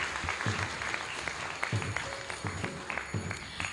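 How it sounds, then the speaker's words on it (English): Audience applause at a college graduation ceremony, moderately distant, with a steady patter of many hands and a few louder claps standing out. "A huge round of applause to her."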